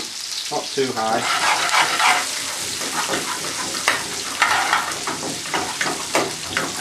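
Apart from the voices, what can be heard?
chopped onion frying in pan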